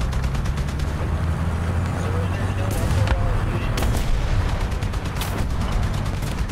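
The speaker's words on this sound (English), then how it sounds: "Guns in action!" Tank guns firing in War Thunder, a loud, continuous barrage of heavy booms and rattling gunfire with a rumbling low end and repeated sharp cracks throughout.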